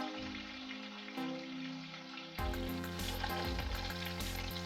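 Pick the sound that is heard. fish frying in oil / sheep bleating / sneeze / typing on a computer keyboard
fish frying in oil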